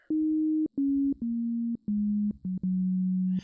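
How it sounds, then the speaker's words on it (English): A pure, smooth sine wave tone from a synthesizer oscillator in the Caustic 3 app plays a series of sustained notes, each stepping slightly lower in pitch with short gaps between them. "if I play a note right now, it's going to play a sine wave"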